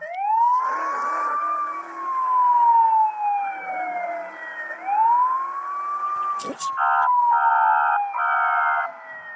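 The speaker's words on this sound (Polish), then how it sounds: "to włączamy syrenę i go gonimy" A police car siren in a video game wails with rising and falling tones, loud and continuous, then switches to a rapid yelping pattern near the end, alone without talk.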